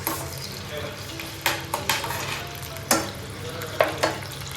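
Tomatoes fry in plain oil in a pan with a steady low sizzle. Several sharp clinks and scrapes of a utensil against the pan stand out above it.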